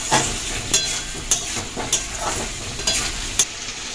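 Green chillies, garlic and tomato fry in oil under a loud, close sizzle, with a spoon scraping and stirring the pan in a rough rhythm of about seven strokes.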